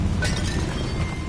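A Confringo spell blast from Hogwarts Legacy goes off as a loud, dense burst of crackling, shattering noise that holds steady for just over a second.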